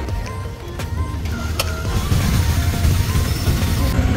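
Rumbling engine of a reserved auto rickshaw on a rainy ride through narrow lanes in Puri, a continuous low drone with road noise, loud and close throughout.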